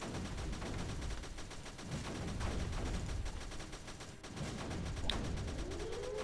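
Cannons firing repeatedly in the strategy video game Creeper World 3, a steady stream of mechanical gunfire-like shots and whooshes layered through the whole stretch, moderately loud with no talking.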